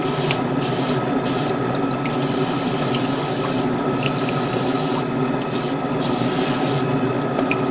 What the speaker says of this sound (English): a little bit higher pressure when you do priming, because then that way you get a good coverage